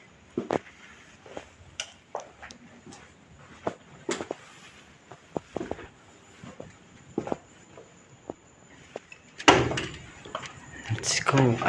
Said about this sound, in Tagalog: Buksan mo natin yung gate guys.